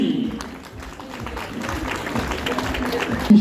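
An audience claps for Kenyan runner Marcy Jebishi at the elite women's half-marathon athlete presentation in Les Sables, a brief burst of steady, moderately loud applause mixed with a voice over a PA.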